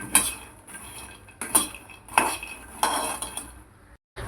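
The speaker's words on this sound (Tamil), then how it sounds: "ஸ்டவ் வந்து ஸ்லோ லோ ஃப்ளேம்லேயே வச்சுருக்கிறேன் தாமரை விதை லேசாக வறந்துருச்சு இப்போ இதை எடுத்துருவோம்" Lotus seeds (makhana) being roasted in a pan over a low flame, heard as a few sharp metallic clinks and scrapes of stirring, close and fairly quiet, with no talking.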